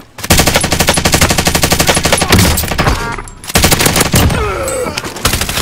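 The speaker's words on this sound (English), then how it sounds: "I am under fire. Taking shots." Loud, sustained automatic gunfire fills a video game battle, with rapid bursts hammering close by and only brief breaks between volleys.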